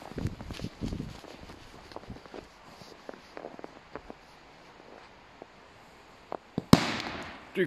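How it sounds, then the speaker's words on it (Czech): X-Polder 4 firecracker set off outdoors in snow: quiet crunching footsteps and small scattered pops lead up to one sharp, loud bang near the end, followed by a brief fading tail. "Petarda X-Polder 4, jedna z mých nejoblíbenějších petard."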